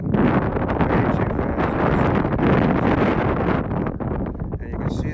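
Steady wind blows across an open seagrass flat, a loud continuous rushing roar with buffeting against the microphone throughout, no voices heard.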